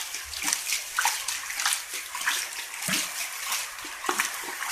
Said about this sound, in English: And the water is getting deeper.